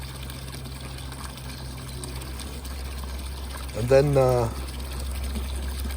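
On a giant tortoise farm, water pours steadily into the tortoises' water bowl, making a soft, continuous hiss over a low hum. A person speaks briefly partway through.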